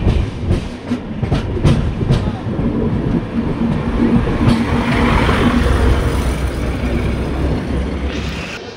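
Close and loud, an LHB coach of the Satavahana Express runs on past Khammam toward Dornakal Junction, wheels clacking in a quick rhythm over a continuous rolling roar.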